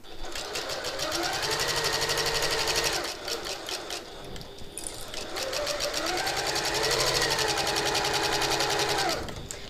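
A sewing machine stitching the side seams of a reversible hobo bag, loud and close, running in two long steady bursts with a brief pause between.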